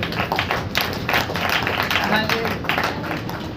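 Rhythmic group clapping during a Hindi-language Christian worship meeting, quick even claps repeating steadily while a voice carries on over them at moderate loudness.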